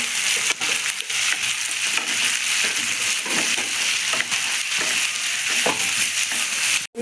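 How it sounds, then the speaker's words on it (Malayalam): Onions fry in a pan with a loud, continuous sizzle close by, broken by frequent scraping and clinking stirs of a spoon against the pan; no voices. "ഇളക്കി കൊടുക്കാം."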